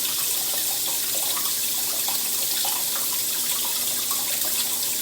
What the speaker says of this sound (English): I like to use hot water to kind of do a bit of sterilizing of the top of the can